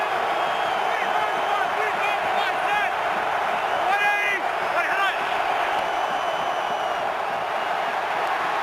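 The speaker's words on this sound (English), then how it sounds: "this crowd is louder than it's been all day" A loud football stadium crowd at an NFL playoff game between the Giants and Packers roars steadily throughout, with whoops and shouts rising above the dense wall of cheering and a commentator talking over it.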